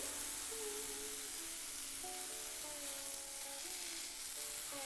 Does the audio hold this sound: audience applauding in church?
no